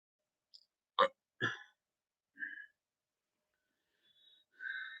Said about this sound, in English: I will occasionally be burping uh, like this